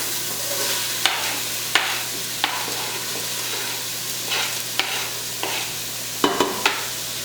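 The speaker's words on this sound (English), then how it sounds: "Now we're going to let these saute for a few minutes to get a little bit of color on them" Onions sauté in olive oil over medium-high heat for an Italian wedding soup base, a steady close sizzle broken by a few sharp utensil clicks and scrapes, no voices.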